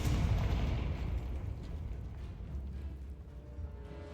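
A Confringo fire spell explodes in the video game Hogwarts Legacy, a deep rumbling blast that fades into a low, noisy roar over a few seconds, faint and alone.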